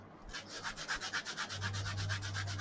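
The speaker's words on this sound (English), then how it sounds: "Kinda wonder if my Dremel's got a handy sanding wheel." A Dremel rotary tool's sanding wheel makes a steady rhythmic rasping against a surface, pulsing about a dozen times in quick succession over a low motor hum, close and fairly loud.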